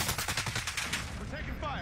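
Rapid automatic gunfire rattles in a battle royale video game, a fast burst of repeated shots at moderate loudness, fairly close.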